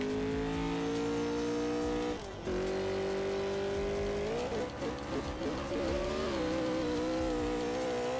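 A race car in CSR2 Racing holds a steady high engine drone, dips briefly, then revs up and launches with rising, wavering engine pitch, loud and close for several seconds.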